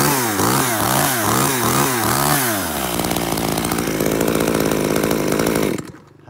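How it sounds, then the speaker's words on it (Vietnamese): A small carving chainsaw is test-started up close: the engine first revs in quick rhythmic surges, then holds a loud, steady high-pitched whine before abruptly cutting off at the end. "Test nổ tiếng máy con số 4 cho bác."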